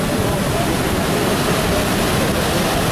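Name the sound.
strong sea swell and surf at a pier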